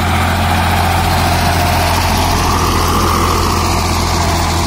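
A 1991 Swaraj 735 FE tractor engine runs steadily close by, a loud, continuous low diesel drone with an even chugging pulse and no other sounds over it.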